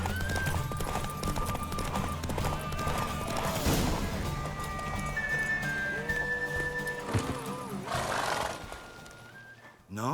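In Witcher 3, a rider's mare Roach trots along with steady, rhythmic hoof clip-clops, joined by snorts and whinnies and ambient game sounds, with a brief character voice over the top.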